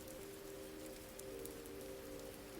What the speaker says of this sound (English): Let the rhythm of the synthetic rain take over.